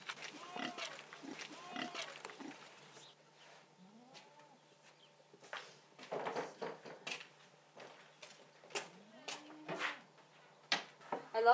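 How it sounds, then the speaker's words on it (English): On a homestead farm, a pig grunts and snorts at breakfast time, with scattered bursts and pauses and some other farmyard noises mixed in. "Big Big Pig! Breakfast!"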